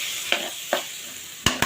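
Ash gourd with shrimp frying and being stirred, a low sizzle under four sharp spatula scrapes against the pan, two spaced apart, then two in quick succession.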